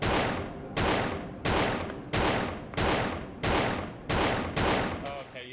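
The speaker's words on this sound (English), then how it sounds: "Shoot all your bullets into the wall." Gunfire from the video game Paratopic rings out as about eight evenly spaced, loud shots fired into a wall, each with a decaying tail. There is a brief faint sound after the last shot.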